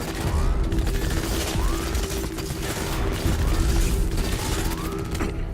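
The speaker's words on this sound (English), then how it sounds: "Also trying to figure out where all the gunfire's coming from." Dense, continuous gunfire crackles through a Crackdown 3 firefight, sustained and loud for the whole stretch, with no spoken voice over it.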